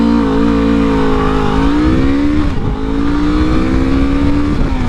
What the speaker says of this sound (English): should we do a little test of acceleration here?